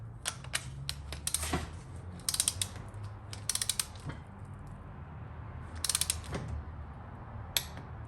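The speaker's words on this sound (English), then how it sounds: "now I'm gonna torque them all down" Torque wrench ratcheting as it tightens bolts while an engine is assembled into a long block: bursts of quick, close metallic clicks repeating in short runs with brief pauses, over low steady background hum, no talking.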